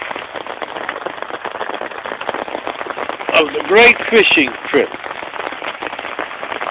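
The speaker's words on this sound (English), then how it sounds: "the rain's coming down almost ear-deafening" Heavy rain drums hard on a Cabela's Alaskan guide tent, a dense, loud, continuous patter heard from inside while someone briefly talks over it.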